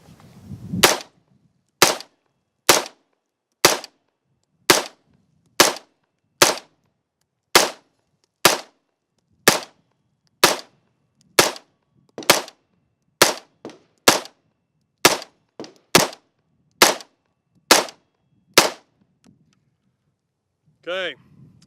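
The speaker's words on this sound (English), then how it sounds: "We'll shoot a little bit slower this time." A .22 rifle fires Tula ammunition, about twenty sharp, loud single shots at a steady, unhurried pace, roughly one per second, with quiet gaps between them and a brief other sound at the end.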